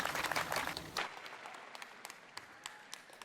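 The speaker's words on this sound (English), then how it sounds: "Let's give her a big applause." A seminar audience applauds a speaker, a burst of clapping that fades quickly into scattered faint claps.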